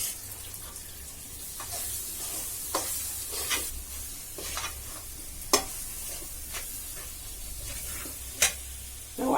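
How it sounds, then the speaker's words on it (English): A tablespoon of oil in a pan for fish curry crackles with a steady bright sizzle. Scattered sharp pops and clicks rise above it, close and fairly loud, with no one talking. "I am putting in a tablespoon of oil."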